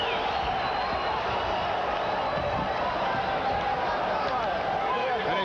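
A boxing arena crowd roars steadily at a bout between Vinny Pazienza and Greg Haugen, a loud, dense wash of cheering and chatter with no letup from start to finish.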